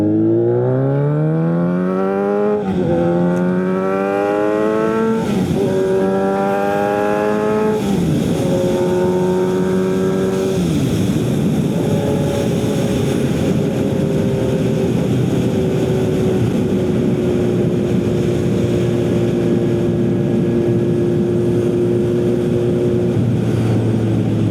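Kawasaki Z900RS motorcycle with a Wirus Win slip-on exhaust and baffle fitted, revving up through several gears in loud rising pulls, then settling into a steady cruise with engine braking on the overrun, recorded close from an action camera.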